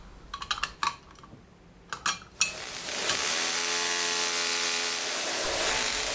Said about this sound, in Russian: Собираю крепление, затягиваю гайки